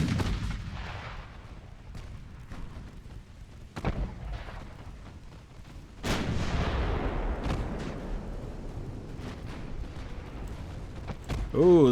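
Battleship 12-inch guns firing in the naval video game Ultimate Admiral: Dreadnoughts, with several sharp booming shots spread across the span over a continuous low rumble of battle noise.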